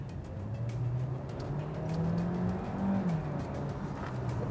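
A Peugeot 3008 plug-in hybrid with about 300 bhp accelerates hard at full throttle on a clear road, heard from inside as a steady, loud engine drone whose pitch climbs and then eases, with no talk.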